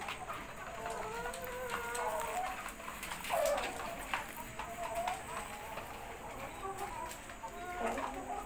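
Samo chickens cluck softly at a distance over a steady background hum, with a few faint calls scattered throughout; no clear speech on top.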